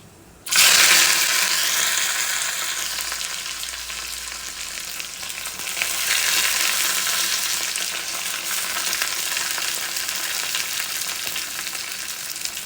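Sliced onions dropped into hot oil with popped mustard seeds in a pan, a sudden loud burst of sizzling that settles into a steady, dense, close frying hiss with occasional stirring scrapes and no voices.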